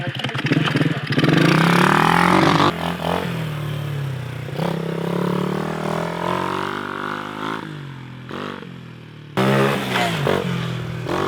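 A very small motorcycle revs and rides close by, its engine note dropping and rising again through clutch pulls and gear changes, loud and continuous with brief dips between shifts.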